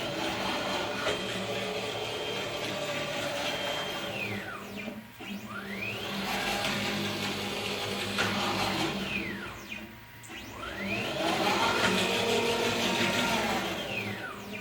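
An unloaded carriage on a large format 3D printer with rack and pinion drive shuttles back and forth at maximum speed, its motor whine rising and falling in pitch with each acceleration and slowdown across repeated passes.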